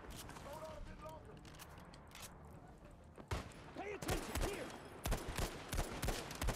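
Machine gun bursts and scattered gunfire during a Battlefield 5 Conquest match, rising from distant rattling to louder, closer volleys toward the end, with faint voices and game sounds underneath.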